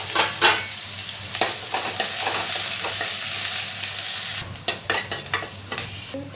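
Carrots and bell peppers fry dry in a pan for pasta, a continuous close sizzle broken by repeated scraping stirs of a spoon, with no voices.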